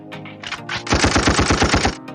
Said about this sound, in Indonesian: seperti efek tembakan